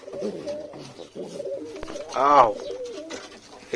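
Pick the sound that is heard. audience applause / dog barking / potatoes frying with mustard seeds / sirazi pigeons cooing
sirazi pigeons cooing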